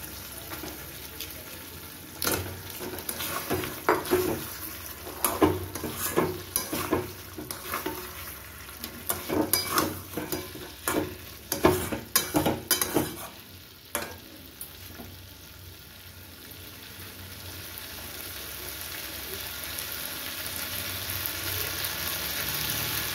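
Catla fish pieces drop into spiced masala oil and fry, with bursts of clattering stirring over a hot sizzle that later settles into an even, continuous frying hiss.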